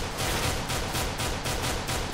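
Rapid gunfire in a Counter-Strike match on de_inferno, dense repeated bursts of shots running without pause at a loud, close level.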